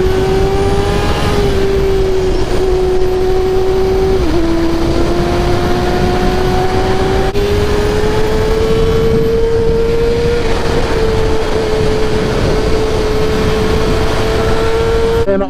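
A Yamaha R6 600cc motorcycle engine runs steadily up close, a loud, continuous high-pitched whine that rises and shifts slightly in pitch with throttle changes throughout.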